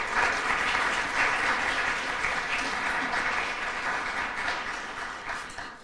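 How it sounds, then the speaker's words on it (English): Audience applause at a library workshop session fills the room steadily for several seconds, a dense, even clatter of many hands that slowly tapers toward the end. "Can we thank Robert once more with a little applause?"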